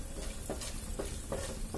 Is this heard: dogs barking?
no